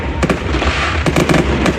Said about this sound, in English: Then we had the firework display.